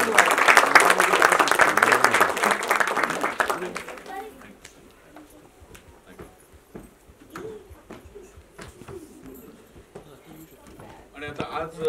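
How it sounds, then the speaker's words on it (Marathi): Loud audience applause at a Marathi film trailer launch, a strong burst of clapping for about four seconds that drops away into scattered sounds and soft room noise, with a voice speaking afterward. "जोरदार टाळ्या सगळ्यांना."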